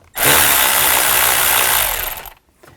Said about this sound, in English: Loosen up this worm clamp.